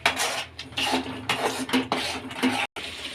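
Spiced masala for an apple gourd (tinda) fry being stirred in a pan, with repeated scraping and clinking of a spoon against metal in an irregular rhythm, close and fairly loud, briefly cutting out near the end.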